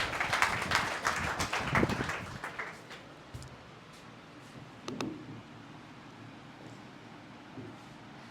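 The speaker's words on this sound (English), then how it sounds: "Give her a huge round of applause, guys." Students in a school classroom applaud a classmate. A dense, close burst of clapping lasts about three seconds and then dies away into quiet room noise, with a single stray clap a moment later.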